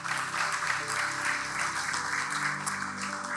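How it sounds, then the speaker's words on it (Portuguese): Sustained applause from a church congregation during a sermon, dense and steady, with music and voices faintly underneath. "Você pode aplaudir Jesus nessa noite?"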